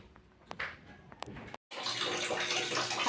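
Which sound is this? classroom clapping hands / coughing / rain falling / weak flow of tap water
weak flow of tap water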